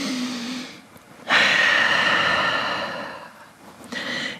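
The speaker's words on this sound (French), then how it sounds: "Grande respiration." A deep breath taken in a vinyasa yoga class: a soft hum leads into a long, close, breathy exhale lasting about two seconds, then a shorter breath follows.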